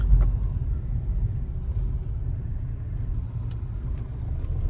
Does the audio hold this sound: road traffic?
yes